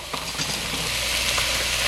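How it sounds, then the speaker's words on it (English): Steady crackling sizzle of sausage browning in hot oil for jambalaya, continuous and close, with a few faint scraping clicks and no talking. "We are looking to just fry up this sausage"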